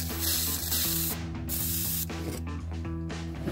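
Lubricant spray hissing onto rear sway bar bushings of a 2005 Subaru Legacy in a garage, with several short bursts over a steady low hum.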